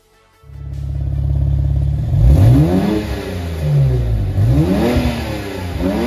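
BMW 335i with the twin-turbo N54 engine, freshly fitted with new injectors, spark plugs and Vanos solenoids, idles loudly then revs up repeatedly in strong swelling sweeps, close and alone without talk.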